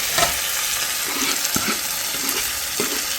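Mutton pieces drop into a pan of browned frying onions, setting off a steady sizzle with a few scraping stirs; Assamese village-style mutton curry cooking, close and fairly loud with no talk.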